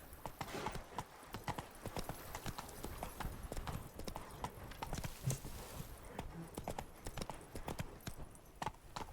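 Horse hooves clip-clopping at a fast gait in The Witcher 3: Wild Hunt video game, a dense quick rhythm of hoofbeats at moderate distance with no talk over it.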